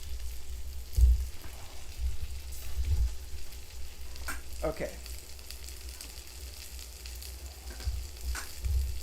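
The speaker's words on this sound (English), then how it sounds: "Can you guys hear it sizzling?" Food sizzles and crackles steadily in a pan close to the microphone, with occasional scraping stirs and a brief spoken word.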